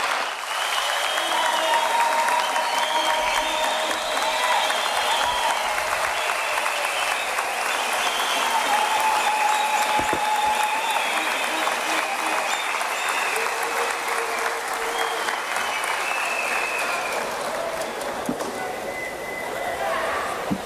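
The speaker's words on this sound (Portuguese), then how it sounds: "peço uma efusiva salva de palmas" Enthusiastic applause from delegates at the closing of an MPLA extraordinary party congress, a steady crowd roar of clapping with some faint voices mixed in, sustained for about twenty seconds.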